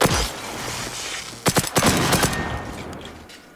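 A rapid volley of gunshots from the Generation Zero shooter, aimed at a robot clinging to a radio tower, cracks loudly over a few seconds against a steady outdoor rumble.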